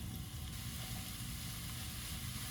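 Portobello mushrooms sizzle with garlic and jalapenos in a hot pan, a steady, faint, even hiss and crackle lasting throughout with no talk.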